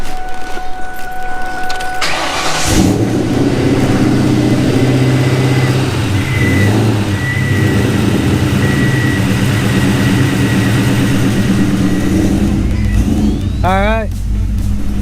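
A 1999 Ford Mustang GT V8 cranks, catches and runs with a loud, steady rumble that rises under throttle, heard close up while a voice speaks over it.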